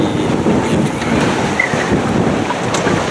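Sideways swell striking a sailboat on the trade-wind route across the Atlantic, a loud continuous rushing wash of water against the hull with no voices.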